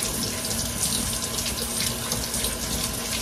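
A vegetable being scrubbed with a veggie brush under a running kitchen tap: a steady, close rush of water into a sink with faint brushing texture throughout, no talking.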